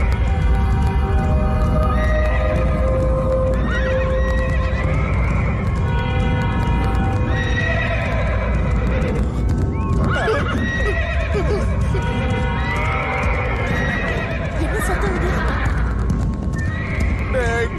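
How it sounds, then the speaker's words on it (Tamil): Horse neighing repeatedly, loud and close, with steady clip-clopping hooves throughout and a busy layer of background sound; voices are faintly mixed in. "குதிரை சத்தம் கேக்குதா?"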